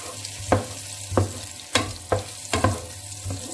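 Onions fry and sizzle in a pan while a utensil stirs them, giving a steady sizzle broken by about six sharp scraping strokes in an uneven rhythm, close up with no talking.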